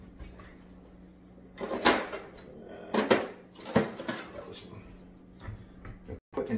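Carrots, celery and garlic dropped into a pot for split pea soup, making a few clattering thuds and knocks against the pot, with quieter handling sounds in between.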